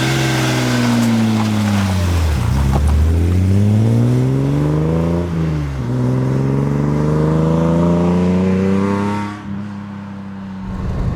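A modified Datsun 240Z roars loudly from inside the cabin while driving, the engine note climbing through the gears with two distinct drops at gear changes, then easing off near the end.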